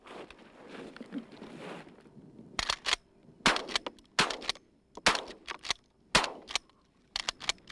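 Repeated gunshots fired at a goose during a hunt from a blind on the Alaskan tundra near Wainwright: sharp, loud bangs spaced irregularly about a second apart over a faint outdoor background.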